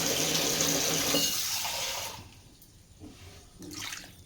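A glass of water poured into a pressure cooker holding soaked mutton bones makes a loud, close, steady splashing rush for about two seconds, then softer trickles and a brief splash near the end.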